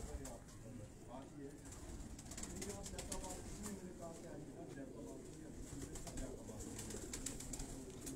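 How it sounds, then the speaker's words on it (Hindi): Pigeons at a Quetta loft give soft, repeated low coos, fairly faint and close, mixed with rustling and light handling noises. "ये कड़ी वाला कबूतर है जी, आज जो आपने मंजूर साहब के घर में देखे थे"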